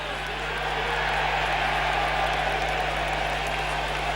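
A rugby league crowd at a 1994-95 Hull v Leeds match sends up a steady, dense roar of cheering and applause that swells slightly and holds throughout, with a low hum running underneath.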